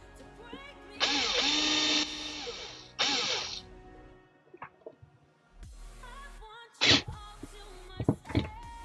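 A screw driven into plastic on an Injora Cherokee 1/10 scale RC truck body shell, cutting its own thread: two loud whirring bursts from a power driver, then quieter clicks and handling noises, close up.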